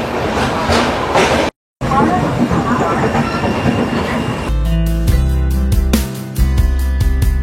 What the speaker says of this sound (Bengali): আর আমাদের ট্রেন ছাড়লো হাওড়া স্টেশনের 9 নম্বর প্ল্যাটফর্ম থেকে